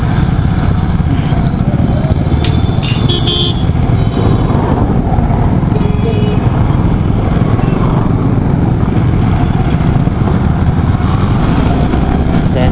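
A motorcycle rides slowly along a road on a morning outing, its engine a steady, close drone with road and wind rumble throughout and a few brief higher clinks near the start, no talking.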